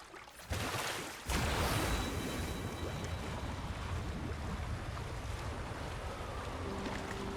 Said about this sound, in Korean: 엄청 높은 폭포.